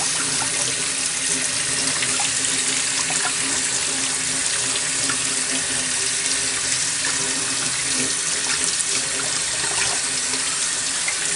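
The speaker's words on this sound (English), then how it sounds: "you can just rinse it under cold water or even submerge it a little bit if you want" Running cold tap water pours steadily over a Dyson V11 vacuum's washable filter, a constant close splashing rush with no voices.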